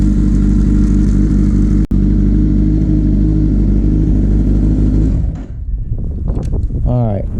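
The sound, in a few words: Kawasaki ZX10R motorcycle engine running at operating temperature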